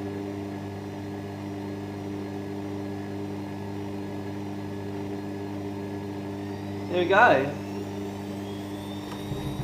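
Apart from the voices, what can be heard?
Bosch Maxx Easycare washing machine spinning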